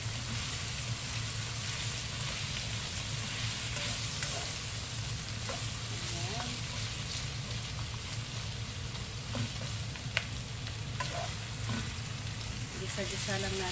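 Pork fries in its own rendered fat for humba, a continuous close sizzle with scattered small pops over a low background hum.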